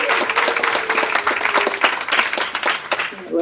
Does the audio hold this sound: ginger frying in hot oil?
no